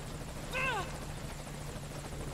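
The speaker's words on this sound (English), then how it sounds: "Helicopter." Helicopter in the video game Metal Gear Solid V, a steady rotor and engine drone with a low constant hum throughout, briefly crossed by a short rising-and-falling tonal swoop.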